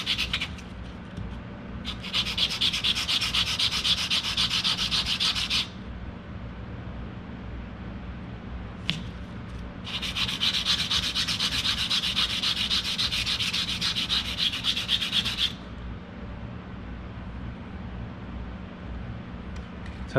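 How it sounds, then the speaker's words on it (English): Sanding a metal jewelry bezel by hand: two long bursts of brisk rasping strokes, each lasting a few seconds, separated by quieter pauses with a faint background hum. "I'm taking a few minutes here to do a little bit of sanding to get everything nice and even"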